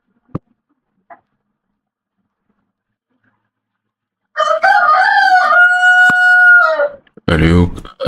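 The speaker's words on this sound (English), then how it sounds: "I know you are hearing the rooster crowing." A rooster crows once, loud and close, with a long, drawn-out call that ends in a harsh trailing burst, preceded by a couple of faint ticks in near silence.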